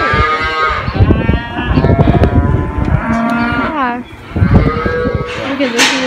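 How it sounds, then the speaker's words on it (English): Cattle at a livestock auction sale barn moo repeatedly in a crowded indoor pen, several loud, close, overlapping drawn-out calls, with a short lull midway and no talking. "There's a lot of cows here."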